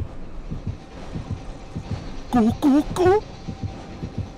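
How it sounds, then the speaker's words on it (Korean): In the Dead by Daylight video game, a rapid heartbeat thumps steadily under the game's noise, while a voice shouts loudly over it in short bursts. "저 이 심장 소리는 나한테 오는 거 아니여?"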